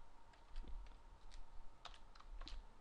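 Quiet, close typing on a computer keyboard, with a handful of scattered key clicks and a few quicker bursts of keystrokes, faint room hiss in the background.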